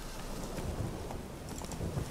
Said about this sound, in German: vielleicht sind wir einfach in einer Gegend, wo es oft regnet